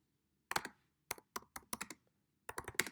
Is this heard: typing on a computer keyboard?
yes